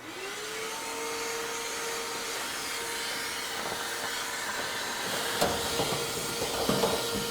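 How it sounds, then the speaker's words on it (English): A vacuum cleaner sucks lint from inside a Samsung gas dryer with the drum removed, a steady loud whine and hiss, with rattling bumps of the nozzle against the metal cabinet near the end. "So vacuum it."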